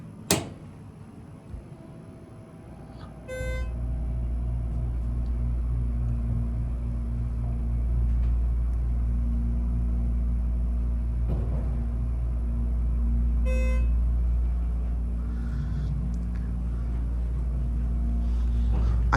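Ride in a Schindler 330A hydraulic elevator at a Restoration Hardware store: a steady low motor rumble and hum starts after a few seconds and runs throughout, with faint chime tones near the start and middle.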